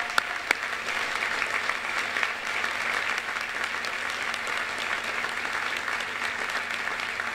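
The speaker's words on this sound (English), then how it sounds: "let's give Carolina an applause." Audience applause at a university fundraising campaign launch, steady dense clapping filling the room without letup, with a few sharper individual claps standing out early on.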